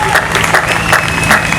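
A church congregation claps and cheers in loud, continuous acclaim, a close, dense wash of applause with voices mixed in.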